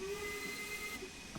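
A steam locomotive whistle in the train simulator game Train Sim World 2, a steady sustained tone with a soft hiss, heard faintly and alone before cutting off.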